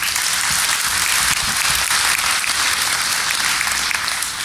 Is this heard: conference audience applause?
yes